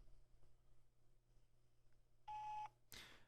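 A single steady electronic voicemail beep on a phone call, clear and near, preceded by faint line hiss and followed by a short burst of noise.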